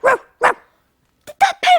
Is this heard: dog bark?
yes